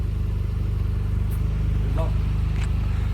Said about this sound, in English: I'll pass the phone to Igor so you can hear my lovely exhaust on my car